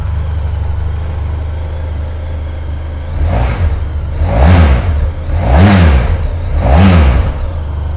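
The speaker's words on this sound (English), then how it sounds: "I'll give it a start up so you can hear that nice V4 engine." A 2013 Honda VFR1200X Crosstourer's V4 motorcycle engine idles loudly up close, then revs four times in a steady rhythm, each rev swelling and falling back to idle.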